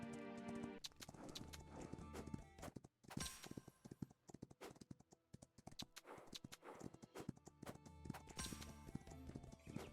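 Horse hooves clip-clopping in the video game Star Stable, rapid rhythmic clear hoofbeats with a brief pause, then resuming, with no speech over them.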